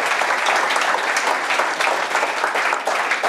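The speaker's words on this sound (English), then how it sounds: "So a round of applause for Launch 22." An audience at a Liverpool software tester gathering hosted by Launch 22 breaks into steady, dense applause, a continuous wash of many hands clapping throughout with no voices standing out.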